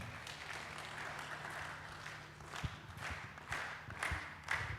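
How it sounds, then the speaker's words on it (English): Scattered applause at an Africa Day event as a speaker walks to the stage: soft, distant clapping from a crowd, with a few sharper individual claps standing out near the end. "Please give him a round of applause as he comes up."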